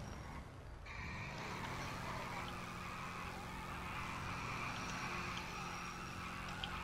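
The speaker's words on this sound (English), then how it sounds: "Rev your engines." Motorcycle engines of a biker gang in the video game GTA V drone and rev steadily as a loud continuous roar, with no talk over it.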